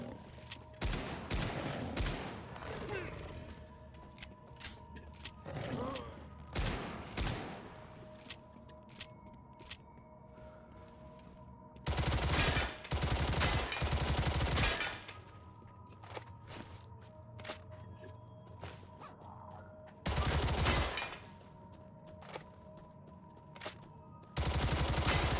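Shotgun blasts in the game Stalcraft, several loud bursts separated by pauses, with footsteps and gear clatter between the shots.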